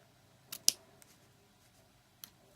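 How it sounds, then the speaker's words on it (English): Small scissors snip sharply through ribbon a few times in quiet surroundings, two close clicks followed by another pair after a pause. "I just take a pair of little scissors"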